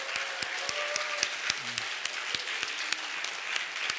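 Warm applause from a church congregation welcoming a new minister at a Sunday service, a steady wash of clapping with a few sharper individual claps and faint voices murmuring underneath.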